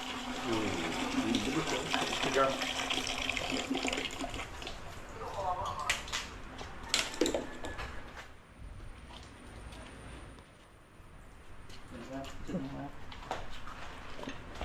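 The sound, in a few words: water flowing from pipe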